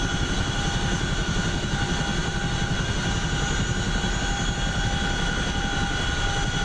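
A Chinook tandem-rotor helicopter flies in the DCS World simulator over the Persian Gulf map, making a steady, dense rotor and turbine roar with a fast chopping pulse underneath. It holds constant and loud throughout, with no voices.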